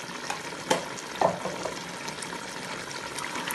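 Red chili powder and spices being stirred into a frying Sindhi rice pulao mixture, with a soft continuous sizzle broken by a couple of brief scraping clinks from the spoon against the pot.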